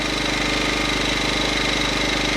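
A Champion 2000-watt inverter generator idles unloaded in economy mode close by with a steady, even mechanical hum and a faint rapid knocking pulse underneath.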